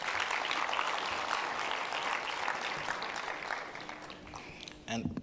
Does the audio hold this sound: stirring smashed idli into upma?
no